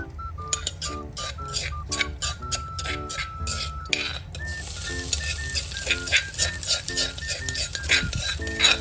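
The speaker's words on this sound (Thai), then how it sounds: "พริกกระเทียมมันก็ผัดให้หอมก่อน" Curry paste, chili and garlic stir-fried with minced pork in a home kitchen, with busy scraping and clinking of a utensil against the pan over a steady sizzle, fairly close, with music running throughout.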